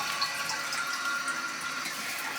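Steady water flows through a newly installed bidet's supply just after it is turned on, a continuous hiss-like rush from close by that holds even level throughout, with no talking.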